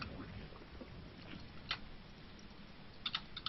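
Fast keystrokes tap away on a cheap basic computer keyboard, faint and distant clicks in quick clusters under a low background hiss, with brief muffled talk.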